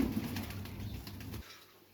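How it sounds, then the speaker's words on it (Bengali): Male and female pigeons bathing in the morning, their soft low cooing running steadily and fairly close before fading out, over a quiet background hiss. "এই যে মাদি এবং নর কবুতরগুলা গোসল করতেছে।"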